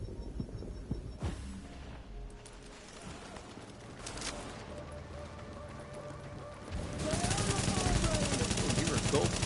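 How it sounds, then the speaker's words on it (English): Gunfire rattles in The Division, with scattered shots early on and then a loud, dense burst of automatic fire near the end, heard over game ambience. "there's another one shooting across map"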